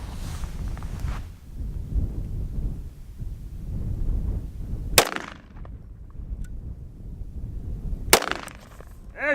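Two sharp, loud Desert Eagle pistol shots crack a few seconds apart outdoors, with a brief echo after each, over rustling wind and background noise.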